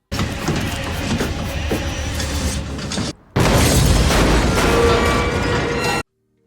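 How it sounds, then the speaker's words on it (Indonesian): A grenade blast in an action film, a sustained loud booming roar that breaks off briefly midway and then resumes with renewed crashing force before cutting to silence. "Dengan cepat, Sato langsung menarik pin granat di tangannya"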